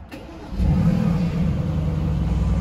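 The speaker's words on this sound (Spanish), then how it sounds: "A ver qué tal se escucha ese V8 biturbo súper poderoso." A Mercedes-AMG GT S twin-turbo V8 fires up with a sharp start, then settles into a loud, steady, deep rumbling idle with a slight rev, close by and free of talk.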